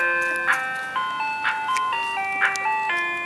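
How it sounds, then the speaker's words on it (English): Ice cream truck playing its tinny electronic jingle, a bright repeating chime melody of stepped tones, clear and fairly close with no talking. "It's a polite ice cream truck."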